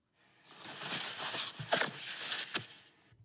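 Toilet paper being ripped, a close, raspy tearing with several quick bursts and sharp snaps in the middle, then stopping abruptly.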